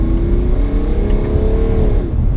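A BMW E92 335d diesel accelerating hard in second gear, a steady loud engine drone rising smoothly in pitch, then easing off near the end, heard from inside the car with no talk.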